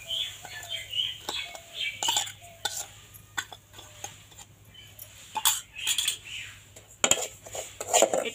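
Semolina being stirred in hot oil in a pan for a semolina rasgulla recipe, heard as scattered metallic scrapes and clinks of a spoon against the pan with quiet gaps between strokes, fairly close and moderately loud.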